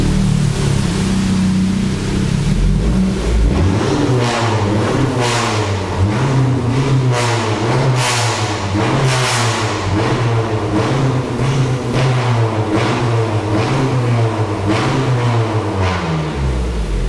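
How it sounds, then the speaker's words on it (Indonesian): A modified Honda Civic FC turbo engine revs repeatedly while parked, rising and falling in loud close pulses, with sharp hissing blow-off valve bursts between the revs. "sekarang kita dengerin suara mesinnya nih, asik banget suaranya. Ada blow off-nya juga."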